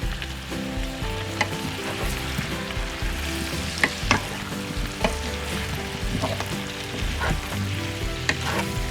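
A side dish frying in a pan over medium heat, seasoned with freshly ground pepper and salt, sizzling steadily and loudly throughout with occasional stirring scrapes.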